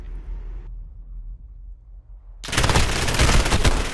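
Sustained automatic gunfire from a high-recoil gun in Call of Duty: Modern Warfare cuts in abruptly after a near-silent stretch, a loud, dense burst of rapid shots that carries on to the end.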